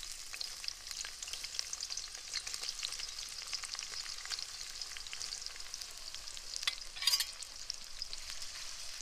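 Sliced onions fry in hot ghee in a pan, giving a faint, even hiss that holds steady with scattered soft crackles and a brief louder burst near the end. There is no talking.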